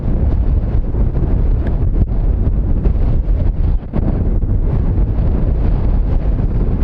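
Strong wind buffets the microphone on an exposed golf course, a loud, steady roar with gusting surges and brief dips, and no voices.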